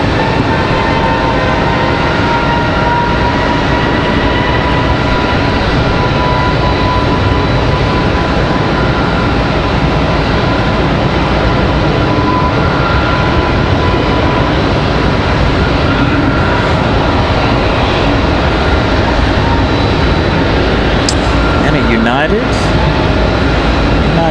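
United airliner lining up for departure at Raleigh-Durham International Airport produces a loud, constant engine rumble and whine that holds throughout, with a voice apparently talking over it at times.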